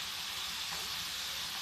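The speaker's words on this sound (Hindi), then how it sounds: "देखिए प्याज कितना बढ़िया भून गया है" Onion and eggplant frying in a pan, a faint, steady hiss and soft sizzle continuing evenly throughout.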